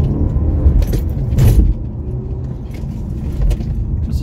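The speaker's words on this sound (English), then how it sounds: "just going to go around these S-bends within the speed limit" Inside a car fitted with a bike rack, road and engine rumble drone steadily as it rounds S-bends at moderate speed, with faint rattles and a couple of brief knocks from the rack.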